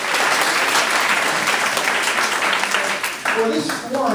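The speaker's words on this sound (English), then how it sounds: "If you could just give her a quick round of applause" An audience at an academic panel discussion applauds a helper with a dense, sustained round of clapping that tapers off near the end, mixed with faint voices.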